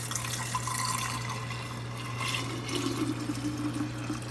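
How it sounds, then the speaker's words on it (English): Running tap water rinsing items in a kitchen sink while making homemade coconut cashew coffee creamer, a steady rushing splash with a constant low hum underneath. "So I'm just going to rinse these off."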